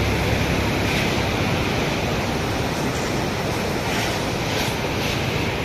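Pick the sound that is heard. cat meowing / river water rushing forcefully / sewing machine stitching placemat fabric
river water rushing forcefully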